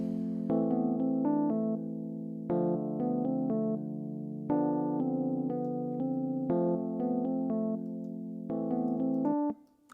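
Beat melody in F Lydian on a bright synth or keyboard tone, with a repeating phrase of short notes over sustained low chords that change every two seconds, loud and clean with no voices.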